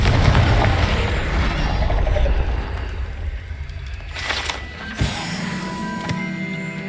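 Confringo spell cast in Hogwarts Legacy, a fiery burst with a booming impact and crackle, followed by fainter debris and smaller bangs, loud and close with no talk over it.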